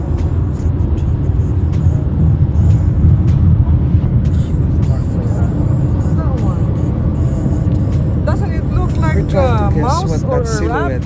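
A car cruises along on a road trip, its low engine and road rumble filling the cabin steadily and loudly from start to finish, with people chatting over it toward the end.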